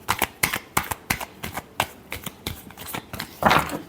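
Tarot cards are shuffled by hand in a quick run of crisp, rhythmic riffles and slaps, close and alone.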